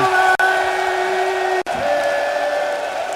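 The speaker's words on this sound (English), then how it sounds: "This fantastic crowd in this excellent Salzburg arena, they enjoyed it too" A large darts crowd in the Salzburg arena at the Austrian Darts Open roars and cheers in a sustained, loud wash of voices with a steady chanting tone, briefly cut twice.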